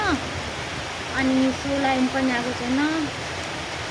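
Heavy rain pours down outside a room in the evening, a steady dense hiss that runs under someone talking throughout.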